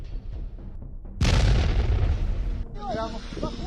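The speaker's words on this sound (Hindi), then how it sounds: "हर 5 मिनट में एक धमाका।" Loud explosions from Russian bombs and missiles striking Ukraine on the third day of the attack: a quieter rumbling stretch, then a sudden heavy broadband blast that booms for over a second before fading, with a voice over the tail.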